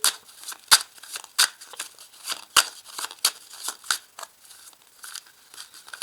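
A deck of cards is cut and handled at a table, giving close, soft riffles and crisp flicks in an uneven series of short bursts.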